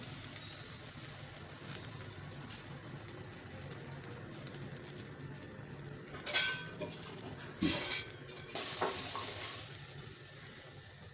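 Green peas are dry-roasted in a pan for matar kachori, with a soft continuous sizzle and a few louder scrapes and clinks of stirring near the end, no voices.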